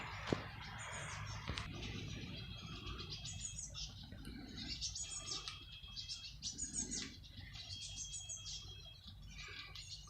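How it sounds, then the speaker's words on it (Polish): Many thin, high chirps from tit nestlings in three nest boxes keep up steadily in the background, layered with low hum and occasional louder bird calls. "W tle słychać pisklaki w trzech budkach lęgowych. Same sikorki się wylęgły w tym roku."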